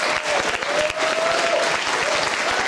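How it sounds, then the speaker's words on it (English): Audience applause at a live talk event in Vancouver, a dense, steady clapping from a room full of people, loud and close, with a faint voice mixed in. "let's give Cheryl a big round of applause"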